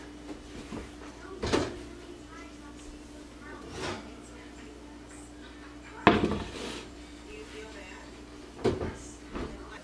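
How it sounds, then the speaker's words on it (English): Heavy clunks and knocks as a hot Dutch oven is lifted out of a home kitchen oven after baking no-knead artisan bread: three distinct bumps spaced a few seconds apart over a low, steady room hum. "I'm gonna go ahead and take out my Dutch oven"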